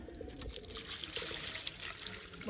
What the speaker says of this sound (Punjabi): ਦੇਖੋ ਦੇਖੋ ਐ ਪੈਂਦਾ ਹੀ ਪਾਣੀ